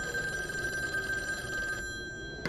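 A telephone bell rings in a steady, continuous electronic trill that runs without a break, then cuts off near the end. No one speaks.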